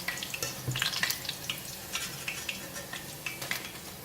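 Small chicken wings frying in hot oil in a pan, a moderate crackling sizzle with intermittent sharp pops and light clinks of a utensil against the pan, no speech.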